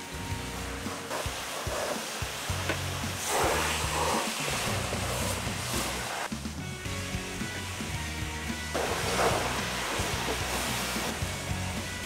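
An AIR-VAC vacuum excavator runs with a steady, loud, broadband roaring hiss of suction and engine noise, continuous throughout with slight surges and no speech.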